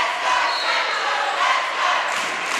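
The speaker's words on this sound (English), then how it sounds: "A really loud chant here for Central." A loud crowd chants in unison at an under-15 girls' basketball game between South and Central, filling the gym with a sustained roar that swells and dips.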